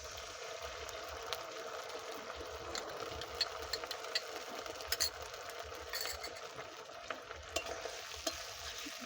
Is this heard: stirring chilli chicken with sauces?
yes